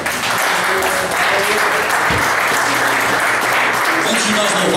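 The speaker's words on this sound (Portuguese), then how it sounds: "Você pode dar uma salva de palmas?" A church congregation claps during a worship service: a loud, dense, sustained round of applause from many hands, with a few voices mixed in.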